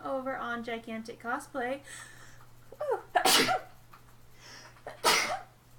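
Two sharp, close sneezes burst out a couple of seconds apart, following a stretch of talking, with a faint steady hum underneath.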